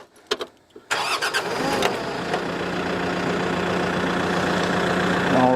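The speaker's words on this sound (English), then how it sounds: "I'm going to start this machine up. This is the RX-7320." A Kioti RX-7320 tractor's diesel engine cranks with a few clicks and stutters, catches after about a second, then settles into a steady, loud idle that continues close by without any talk.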